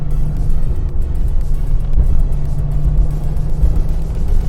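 An 80s Porsche 930 Turbo Rinspeed slantnose drops to first gear on a twisty canyon road with tight hairpins, its engine a loud, close, low droning rumble with a brief throttle blip midway.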